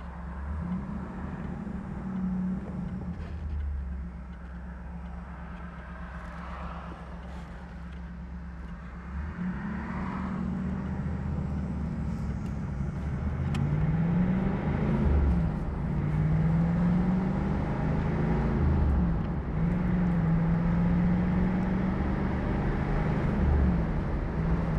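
A 1985 Chevrolet Camaro IROC-Z pulls through the gears on a road, with its engine droning steadily and pitch rising and falling across several upshifts from inside the car, with passing traffic around.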